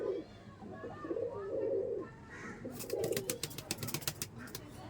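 Low, rolling coos from teddy Kamagar pigeons come in a few phrases, followed by a burst of sharper clicks or flutters near the end.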